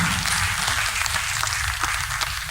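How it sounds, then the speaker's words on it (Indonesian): A crowd applauds in a steady wash of clapping, moderately loud and continuous for a few seconds. "Tepuk tangan untuk Malam Peduli Seniman."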